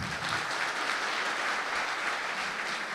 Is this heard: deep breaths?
no